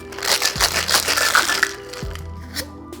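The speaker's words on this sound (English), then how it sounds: "Wet shake." A wet shake with ice in a cocktail shaker for a honey-and-egg-white koi pond cocktail: continuous rattling, crunching ice for about two seconds, close and fairly loud, then easing off.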